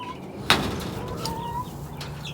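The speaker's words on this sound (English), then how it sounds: "here we have the quail" Quail in a backyard coop at night give a sharp call and faint chirps, with a brief burst of fluttering and scuffling nearby over a low steady background.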